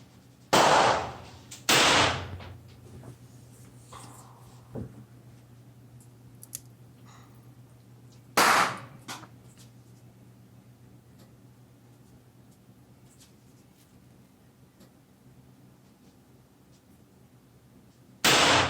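Smith & Wesson Model 10 revolver fired at a 25 m range: a few sharp, loud single shots spaced irregularly, two close together at the start, one in the middle and one at the end, with quiet gaps between.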